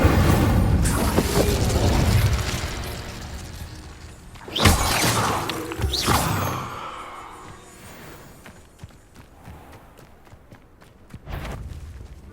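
An Incendio fire spell is cast in Hogwarts Legacy on PS5, bursting with a loud whooshing blast and crackling flare, followed by a second surge, then quieter ambient game sounds and a final smaller burst.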